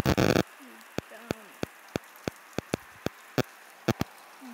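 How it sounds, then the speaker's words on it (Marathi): Rain falls outdoors in Maharashtra, heard as separate drops tapping sharply on a surface at irregular intervals over a quiet background, after a brief burst of noise at the start. "पाऊस बघा किती चालू आहे."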